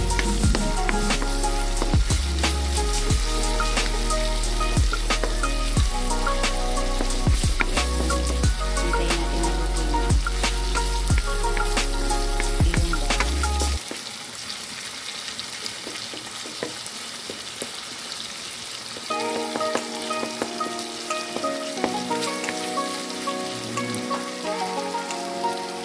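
Onion, garlic and tomato sauté in a pan for ginisang ampalaya, a close, dense sizzle of crackling frying. Louder tonal music plays over the first half, then the sizzle carries on more clearly.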